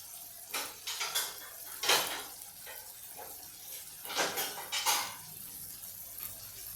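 A large lid set on a pot of masala cooking in oil, with a few close metallic clanks and knocks of utensils at scattered moments over a faint background.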